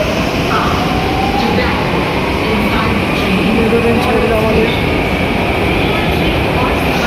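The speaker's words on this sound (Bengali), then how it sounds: "মেট্রো ট্রেন ছেড়ে চলে গেলো আমাদের কাছ থেকে" A metro train pulls out of a station in Mumbai, a loud steady rumble and rush filling the whole clip, with a brief voice over it.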